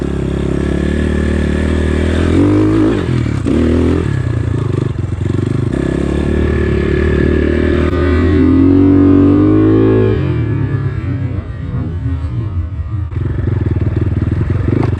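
GPX FSE 250 E dirt bike ridden, its engine a loud, steady drone running close throughout, with throttle rising and easing, plus some clatter and scraping.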